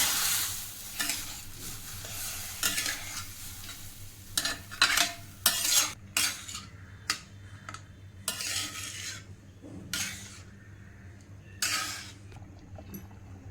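Milk being stirred into sheera, a semolina prasad, in a pan: repeated close scraping and clinking spoon strokes over steady frying sizzle, with a pause mid-way, and no voices.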